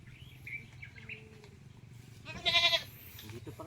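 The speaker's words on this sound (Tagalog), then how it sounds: "May kambing ka pala?" Goats kept on a rural lot among mango trees, four animals; a short bleat-like call rises clearly around the middle, with faint bird chirps and low background rumble, while people talk nearby.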